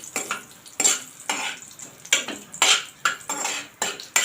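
Cumin, asafoetida and spices sizzle quietly in a pan while a utensil scrapes and clinks against the metal in short repeated strokes.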